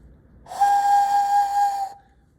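A handmade clay animal whistle gives one steady, clear, breathy tone lasting about a second and a half, loud and close, with a slight airy hiss around it.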